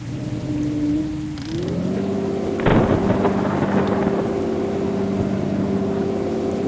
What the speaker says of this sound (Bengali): চলো, বৃষ্টি হচ্ছে